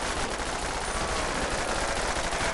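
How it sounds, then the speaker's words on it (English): Dense pistol gunfire from the Custom Zombies game, heard as a continuous rattling stream of shots that stays loud and close throughout, with no talking. "Keep shooting me with your boring old pistol."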